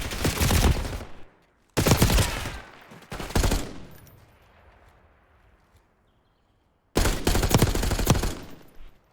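Gunfire bursts in a Call of Duty competitive match, loud rapid volleys in three separate clusters with a quiet gap of fading echoes before a final sustained burst.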